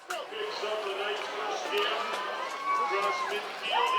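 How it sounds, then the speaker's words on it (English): A crowd at a high school football game in Davenport, Iowa, cheers and applauds a run, a broad distant roar that swells toward the end, with a commentator talking over it. "Gets a big hand from the Assumption crowd here"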